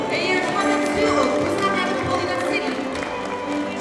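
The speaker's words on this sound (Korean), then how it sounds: "큰 박수로 환영해 주십시오." Applause from an audience at the Busan International Boat Show opening ceremony, a dense, steady wash of clapping held at a constant level throughout, with voices and a faint musical tone mixed in.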